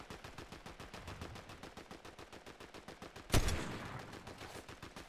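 Video game gunfire plays as a rapid stream of quiet, evenly spaced automatic shots, broken by one louder burst near the end with a fading tail.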